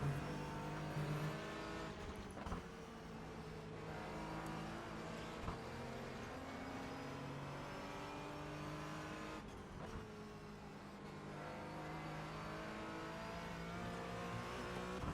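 A Porsche Cayman GT4 race car in the iRacing sim screams through its gears, engine revs climbing and falling with upshifts and downshifts, heard alone and continuously at moderate level.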